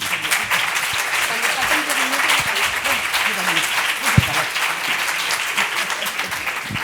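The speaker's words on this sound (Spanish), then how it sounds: "Un fuerte aplauso." A crowd applauds loudly at a tarot congress in Barcelona, welcoming presenters. The clapping is thick and continuous for about seven seconds, with one sharper slap standing out near the end.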